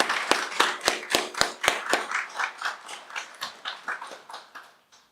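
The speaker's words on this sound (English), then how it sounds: "give her a big round of applause because she deserves that" Rhythmic clapping from a small group at a media meet and greet, sharp evenly spaced claps at first, then softer overlapping ones that taper off near the end.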